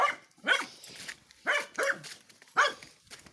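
A dog barks four times in short, sharp bursts with brief pauses between, fairly close and clear, with no talking.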